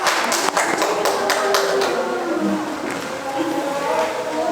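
Students in an Indonesian classroom clap their hands after a lesson on the founding of Nahdlatul Ulama, a burst of sharp claps over lingering classroom chatter and voices.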